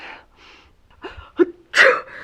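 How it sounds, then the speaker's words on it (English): A single sharp sneeze bursts out near the end, preceded by a few soft breathy inhales and a catching gasp, close and fairly loud. "You've been sneezing all morning."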